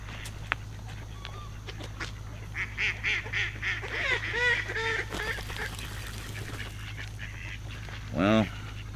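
Ducks and geese at an outdoor pond honk and quack in scattered bursts over a steady background hum, with one loud honk near the end; a voice talks faintly at times.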